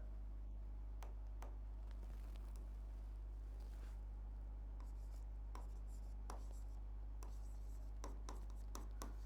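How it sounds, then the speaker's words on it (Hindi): A word is written on a classroom board during a geography lesson on ocean currents: sharp, scratchy pen or chalk strokes come in short bursts over a steady low electrical hum, with no talking. "क्यूरियोशिवो लिख देता हूं मैं यहां।"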